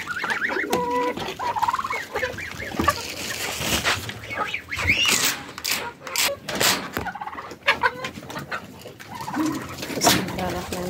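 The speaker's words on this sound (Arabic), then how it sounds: "هنفتح على الحمام بتاعنا، سم بالله، ونحط لهم الأكل والمية" Pigeons in their loft coo and flutter nearby while being given food and water. Bursts of wingbeats and scuffling mix with someone talking.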